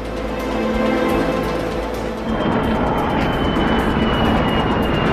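An airplane on a parabolic zero-gravity flight pulls upward at about 1.8 G, its engines giving a loud, continuous cabin roar that swells slightly partway through, with no voices.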